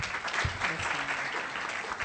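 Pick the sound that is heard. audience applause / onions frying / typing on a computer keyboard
audience applause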